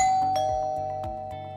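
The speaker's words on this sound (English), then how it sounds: "doorbell" A two-note electronic doorbell notification tone from an app rings out clearly, followed by a sustained ringing tone that fades slowly, with no talking.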